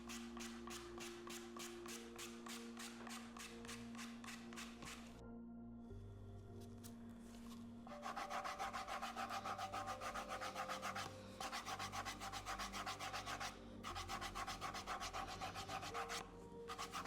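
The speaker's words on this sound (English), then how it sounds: "I then went in with my electric drill and I just worked on those stubborn cracked areas" An electric drill files hard, cracked skin on feet in close, rapid rasping strokes, pausing briefly midway before resuming in louder steady bursts.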